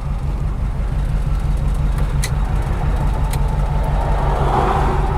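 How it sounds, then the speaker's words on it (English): A warmed-up 1955 Oldsmobile 98 Holiday sedan engine runs quietly while the car is driven, a steady low rumble and road hum heard from inside the cabin with no voices. "Engine runs really quiet once it's fully warmed up."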